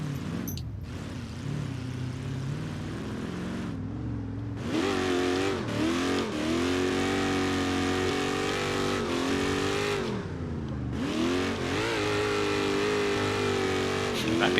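A mud truck engine in the BeamNG driving game revs loudly on a mud track, rising and falling through repeated throttle bursts with brief drops between them, and someone talks over it.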